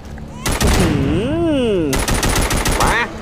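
Automatic gunfire in the mobile zombie shooter The Walking Zombies 2, loud rapid bursts, with a pause between them and a sweeping in-game tone over the gap, plus a brief chime near the end; someone talks over the action.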